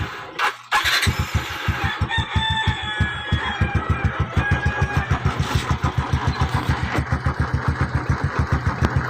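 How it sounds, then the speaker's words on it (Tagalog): A noisy Suzuki Smash 115 motorcycle engine idles with a loud, rapid, rhythmic thumping knock, steady throughout, while a rooster crows faintly in the background. "Ang kanyang makina ay maingay."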